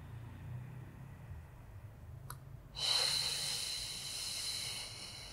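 A breath drawn in during a beginner Pilates exercise, a sudden airy hiss rising partway through and sustaining to the end, close and fairly soft over a quiet low hum, after a brief click.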